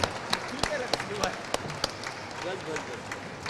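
Audience applause at a book launch, scattered hand claps in a loose rhythm over a murmur of voices in a room.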